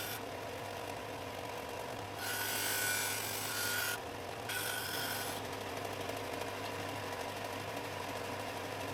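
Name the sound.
rounding off wooden purpleheart and maple holder by hand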